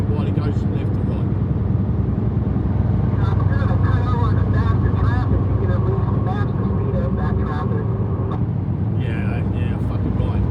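Loud car exhaust rumbles steadily in heavy traffic, a constant low drone filling the whole stretch, with a driver talking over it.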